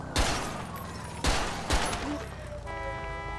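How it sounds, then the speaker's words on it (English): Gunfire in a police role-play video game: three sharp, loud shots spread over a few seconds against a steady game background, with tonal in-game sounds trailing after. "They just heard gunshots all the way on the opposite side of where everything was going."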